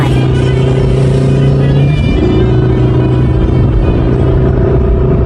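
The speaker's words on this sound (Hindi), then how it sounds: "सभी अमीर व्यापारियों ने अपने अपने गाड़ियों में मेला देखने आए।" Cartoon cars pull in with a steady, loud engine rumble and a rising rev partway through, arriving for a village fair; faint background sound sits underneath throughout.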